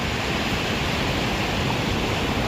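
Rough sea waves at Chivla Beach in Malvan produce a steady, dense roar of surf that holds constant and unbroken throughout.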